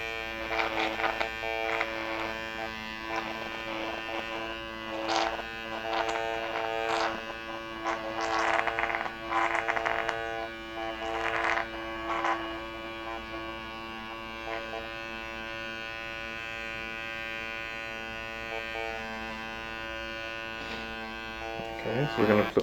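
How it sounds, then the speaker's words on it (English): A skin pen microneedling device buzzes steadily against the skin during an acne and keratosis pilaris treatment, a continuous electric hum with stronger bursts, partly under a voice talking. "this skin pen is actually poking holes into the skin and affecting change"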